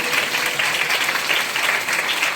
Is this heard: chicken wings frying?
no